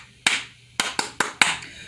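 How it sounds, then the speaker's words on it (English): Five sharp hand claps, spaced unevenly with a short pause after the first, close and distinct against a quiet background. "It means you clap."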